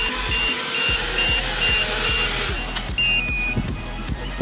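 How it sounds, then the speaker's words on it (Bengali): A homemade drone running a Samsung 2200mAh battery pack sounds a regular series of short high beeps, evenly spaced, over low rhythmic mechanical ticking, with one longer two-tone chirp near the end. "ওকে, অ্যালার্ম দিতেছে গাইস।"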